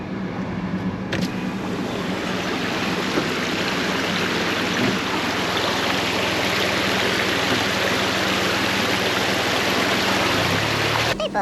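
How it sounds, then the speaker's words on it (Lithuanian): A car drives through waterfalls on a rough island road on Koh Chang, with a steady, loud rush of flowing water and a low engine hum continuing throughout, no voices. "žiūrėkit, kaip reikia pravažiuoti krioklius"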